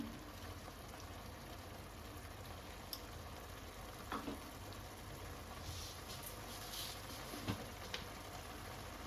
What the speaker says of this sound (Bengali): এটাকে আমি একটু ভালো করে কষিয়ে নেব।